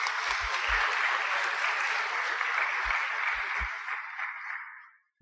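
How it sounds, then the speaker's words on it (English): A church congregation applauds warmly to welcome a family during a Sunday service. The steady, full clapping lasts about four seconds before tapering off quickly, with a few low thumps. "I'd like you to welcome with a round of applause Roberto, Patty, and Samantha."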